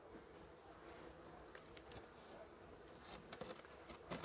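Honeybees buzz around a beehive at an apiary in a steady, faint, continuous drone, with a few soft taps and rustles.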